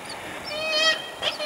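Gulls nesting on the windowsills of houses in Andenes, Andøya, Lofoten, Norway, give a few short honking calls close by, one drawn-out cry and then a second brief one, over quiet background noise.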